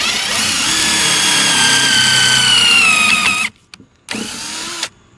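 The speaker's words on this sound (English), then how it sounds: "go ahead and drill that one out" A power drill bores a countersink hole in wood, a loud steady whine for several seconds that cuts off, then a brief second burst of drilling.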